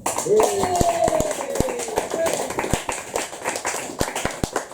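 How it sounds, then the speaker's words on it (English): Sparse, uneven applause from a small audience at a poetry event, with distinct separate claps under a voice that sounds like an exclamation or whoop at the start. "So, more applause for everyone tonight."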